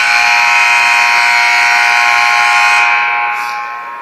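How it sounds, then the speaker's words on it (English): A loud, steady electronic buzzer sounds in an arena during an NCAA Division II PSAC women's basketball game, Mansfield at Shepherd: one long sustained tone that holds strong before fading at the end. "That buzzer is very loud, Nick."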